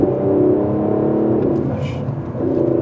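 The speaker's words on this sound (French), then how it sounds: "le bruit du moteur est plus rocailleux" Aston Martin DB11 V12 engine accelerating, a steady, rough-edged roar that holds loud and close throughout with a brief dip and swell toward the end.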